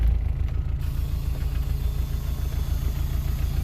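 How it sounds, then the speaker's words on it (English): An old vehicle engine idles at about 900 rpm, giving a loud, close, low throbbing rumble with a steady pulsing rhythm and slight knock. There is no talking over it. "Still idling about 900."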